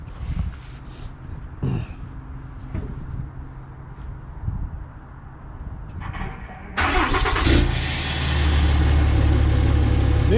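A work truck with its stock exhaust idles and revs, a low steady engine rumble that swells louder and fuller partway through, with a sharp burst as it picks up, heard close by.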